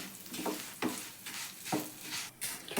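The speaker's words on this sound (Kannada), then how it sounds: "ಇದು ಗೋಲ್ಡನ್ ಬ್ರೌನ್ ಕಲರ್ ಬರೋವರೆಗೂ ಫ್ರೈ ಮಾಡ್ಕೊಳ್ಳಿ ಶಾವಿಗೆ" Vermicelli fries in a pan with a soft, steady sizzle while a spoon stirs and scrapes it every half second or so, quiet and close, with no voices.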